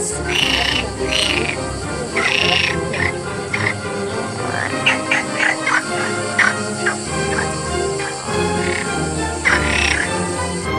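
Repeated frog croaks ring out in an uneven rhythm, mixed with bird calls in a busy outdoor chorus, fairly loud and close.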